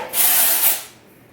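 Dry shampoo aerosol sprayed onto hair roots, one close, loud hissing burst of about a second that swells twice before cutting off, with no talk.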